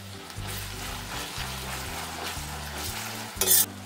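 Onions and ginger garlic paste sizzle steadily in hot oil for mutton biryani, a soft continuous frying hiss with faint stirring scrapes, ending in a brief louder clatter.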